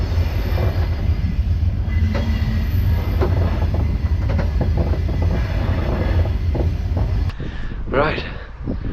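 Train slowing to a halt on a long desert line in Africa: a loud steady rumble of rolling wagons with clanks and squealing wheels, then the noise drops away as the cars stop and metal screeches briefly.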